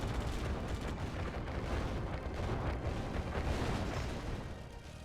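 A nuke detonates in a strategy video game, a deep, rumbling explosion with crackling debris that stays loud throughout before easing slightly at the end.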